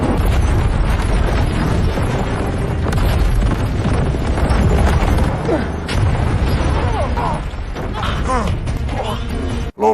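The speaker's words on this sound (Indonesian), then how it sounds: "lolos dari ledakan terowongan barusan" An explosion in a tunnel during an action film, a loud sustained roar of blast and tumbling debris, with a voice speaking over it and a sudden cut near the end.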